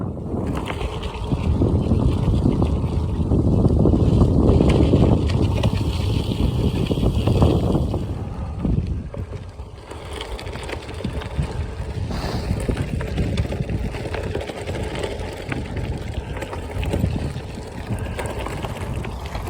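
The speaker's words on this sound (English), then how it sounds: "except for the headwind." Headwind roars against a cyclist riding on red asphalt, a continuous loud rumble of buffeting air that swells and eases over nearly twenty seconds, with no talking.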